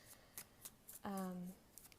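A Rider-Waite tarot deck is shuffled by hand, giving quiet, soft papery riffles with a brief squeaky tone in the middle.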